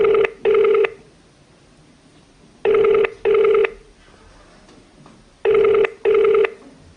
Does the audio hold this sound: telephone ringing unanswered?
yes